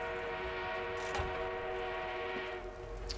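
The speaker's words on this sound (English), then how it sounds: "Oh, train is there." An armored train in Battlefield 1 draws in with a long sustained horn-like whistle tone over a low rumbling rail drone, fairly loud and steady throughout.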